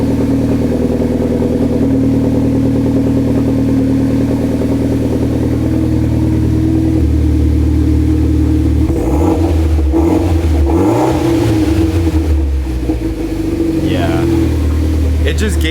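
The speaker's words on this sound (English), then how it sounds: "it just gave it that kind of like growl to it a little bit" Mitsubishi Lancer Evolution X with a newly installed test pipe, its exhaust holding a steady, close, mid-pitched growl at idle, then rising through a few rev swells near the end while people talk over it.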